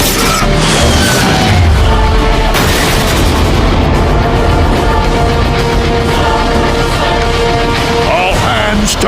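Dense weapon fire in a Transformers battle scene aimed at tow cables: heavy booms and artillery-like blasts pound continuously under a loud, layered orchestral score, with no gaps in the barrage.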